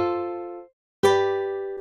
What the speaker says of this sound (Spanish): Tenemos también una guitarra de nylon que suena así.